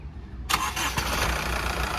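A 2015/16 Honda Mobilio's engine cranks and catches after a quiet moment, then settles into a smooth, steady idle heard up close, with no talking.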